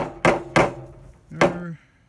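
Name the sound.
hammering nails into a greenhouse wall frame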